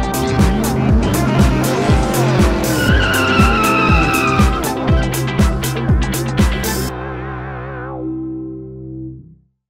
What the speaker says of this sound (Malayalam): നമ്മൾ കാർ കൊടുക്കുമ്പോൾ രണ്ടും മൂന്നും ഗിയറുകൾ സ്കിപ്പ് ചെയ്താണ് വണ്ടി പറന്നു കയറി പോകുന്നതാണ്.